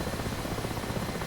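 Mi-8 helicopter flying in the game DCS World, a loud continuous rotor-and-turbine roar with a steady fluttering texture, heard alone in a brief stretch.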